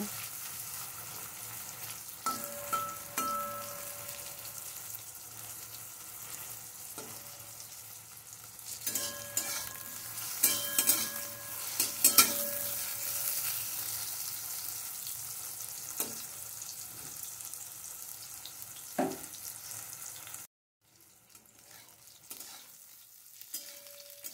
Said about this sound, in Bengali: বেগুনটা খুব ভালোভাবে আমি এখন ভেজে নেব